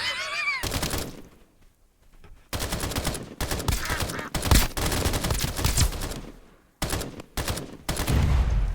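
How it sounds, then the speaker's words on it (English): Bursts of video game gunfire pour into a red barrel, rapid volleys broken by short pauses, loud and close, with several separate strings of shots. "Takes a lot of bullets to blow up a red barrel"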